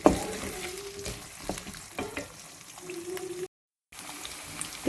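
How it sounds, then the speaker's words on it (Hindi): Mustard seeds (rai) and potatoes frying in a pan, a constant sizzle with stirring scrapes and light taps, briefly cutting out before resuming. "अब इसमें 1 चम्मच हम राई दाना डाल देंगे।"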